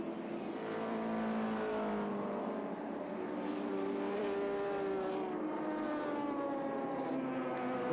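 Touring race cars lapping Sandown in the 1984 ATCC, engines droning loudly and steadily at high revs as they run down the straight and shift up through the gears, with no speech over the sound.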